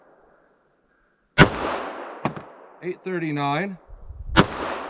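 .45 ACP pistol fired through a 5.3 inch KKM barrel: two sharp, loud gunshots a few seconds apart at close range, with a chronograph readout spoken between them.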